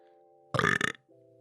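A single loud, close burp lasting about half a second cuts sharply over a quiet, sustained musical tone that drops out briefly and then resumes.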